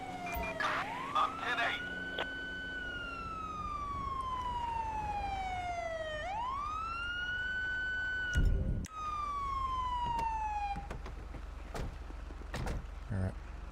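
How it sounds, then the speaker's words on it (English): A police car siren in GTA V with the LSPDFR mod wails in long rising and falling sweeps, loud and sustained, with a few thuds and clunks partway through. "I wish they would not come with sirens."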